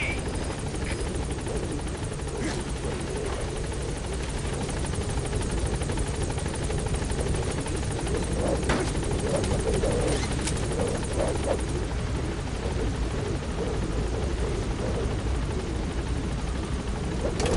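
The Pequod helicopter in Metal Gear Solid V, a loud, steady rotor drone and engine roar holding continuously throughout.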